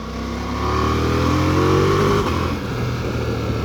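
Ducati Multistrada V4S with its V4 engine revving on a rough country road, a loud close rising roar that climbs, holds, then briefly dips before settling into a steady growl.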